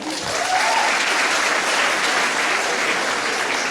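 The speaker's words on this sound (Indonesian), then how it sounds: "Tepuk tangan untuk Tuhan Yesus." An audience at a 2009 revival gathering at a Manado high school claps steadily, a dense, even wash of applause lasting the whole stretch at moderate distance.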